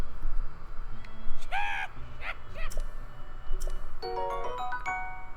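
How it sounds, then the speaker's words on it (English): A video-game cuckoo bird in Zelda: Tears of the Kingdom gives a few short, warbling calls over a steady ambient background, followed by a bright chiming jingle. "That's a cuckoo, alright."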